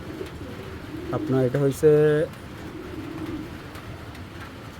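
Racing pigeons at a loft in Bangladesh give a short burst of cooing in the middle, with someone talking over and around the birds.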